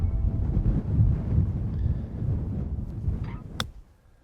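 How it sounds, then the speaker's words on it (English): Wind gusts across an open golf course near sand greens, rumbling low and steady into the microphone for several seconds before easing, with a brief sharp tick near the end. "Flag's blowing up there, some wind behind us."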